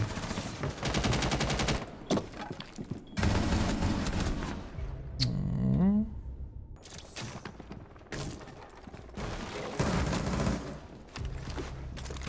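Sustained automatic gunfire in a shooter video game, loud bursts of volleys separated by short pauses, with a sharp squealing effect in the middle, no talk over it.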